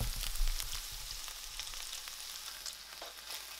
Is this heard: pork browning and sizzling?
yes